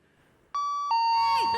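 A doorbell rings with a clear two-tone ding-dong, the second chime starting shortly after the first and ringing on, with voices rising underneath as it fades.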